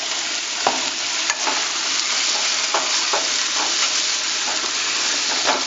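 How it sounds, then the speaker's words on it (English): Noodles fry loudly in a hot pan with a steady close sizzle and occasional scraping stirs. "then just add your noodles"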